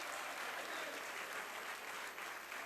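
Loud, sustained applause fills a joint sitting of parliament during the President's reply to the State-of-the-Nation Address debate, a dense steady clatter of many hands from a large crowd with no break.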